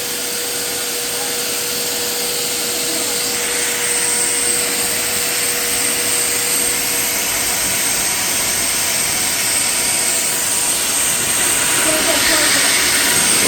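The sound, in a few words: air blower blowing dust out of Bissell vacuum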